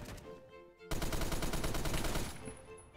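Rapid automatic gunfire bursts loudly in the Phantom Forces shooter game, a dense rattling stream of shots lasting about a second and a half after a quieter stretch, then fading into background game noise.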